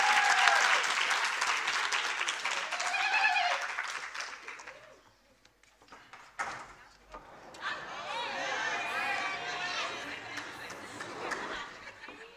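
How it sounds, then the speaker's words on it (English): An audience at a community engagement event applauds a guest speaker from skateboarding, with steady clapping and cheering that dies away midway, then a second burst of clapping and crowd chatter follows. "Let us give us a tremendous round of applause to our guest speaker"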